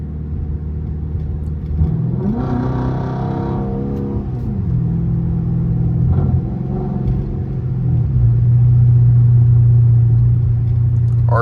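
Chrysler 300C Hemi V8 engine accelerating inside the car, a loud continuous rumble that swells and rises in pitch through gear changes, then settles into a steady drone, with no voices.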